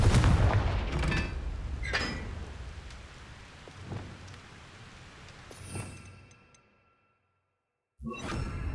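Confringo fire spell blasts in the Hogwarts Legacy video game, a string of booming, crackling explosions over a rumbling, rain-like wash that fades into silence before one more sharp blast.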